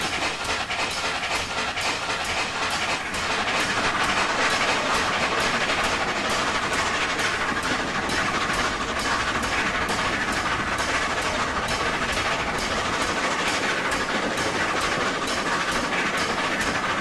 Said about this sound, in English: Excellent steamer on this game, on this, by the way.